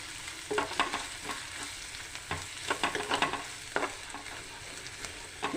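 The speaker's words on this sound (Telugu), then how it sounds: "పసుపు వేసి బాగా కలుపుకోవాలి ఒకసారి" Turmeric being stirred into frying ginger and oil for an egg tomato curry, soft steady sizzling with intermittent scraping strokes of a spoon against the pan.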